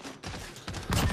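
Gunfire from a multiplayer match of Call of Duty: Modern Warfare, with a short, loud burst of shots building toward the end of the brief moment, heard without any talking.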